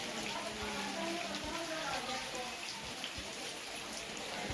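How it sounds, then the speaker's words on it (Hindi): Light rain falling during a rainy morning at a family home under cloud cover, a faint even patter with scattered drops and soft low thumps, distant and steady throughout. "अभी तो हल्की हल्की बारिश हो रही है"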